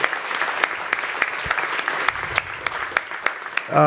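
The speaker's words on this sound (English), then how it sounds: "Let's have a round of applause for all our panelists." Audience applause for the panelists at the close of a higher-education plenary session, a dense, steady patter of many hands with sharp individual claps standing out, fairly loud and sustained throughout.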